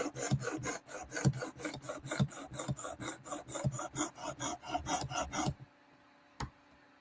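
A knife is drawn repeatedly across a Work Sharp sharpener in about twenty quick, evenly spaced rasping strokes that stop abruptly, followed by near silence and one faint tap.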